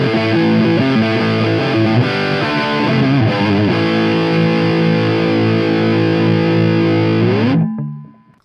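Michael Kelly electric guitar played through heavy distortion with its pickups wired in series, loud sustained chords ringing for several seconds before being cut off abruptly, leaving a short faint decay.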